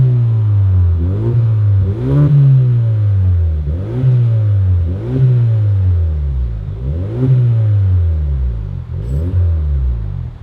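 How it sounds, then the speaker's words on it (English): A 2025 Kia K5 engine with a custom Vibrant axle-back exhaust and factory tips and resonator revs repeatedly, about six throttle rises and falls in steady rhythm, each with a deep loud rasp dropping back to a rumbling idle. "I'm gonna rev it for you guys"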